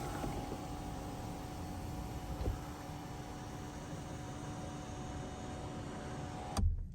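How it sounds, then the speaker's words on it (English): Electric window blinds on a 2023 BMW i7 opening together inside the cabin, a steady low motor whir with a faint hum running several seconds, then stopping with a soft thump near the end. "if you want to open all blinds, you just do open all blinds. And everything opens"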